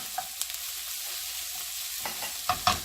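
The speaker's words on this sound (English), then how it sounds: "I'm still sauteing my onions, my shallots, my garlic, my mushrooms, and my sun-dried tomatoes" Onions, shallots, garlic, mushrooms and sun-dried tomatoes sautéing in a pan, a soft continuous sizzle with a few light scrapes and stirring clicks near the end.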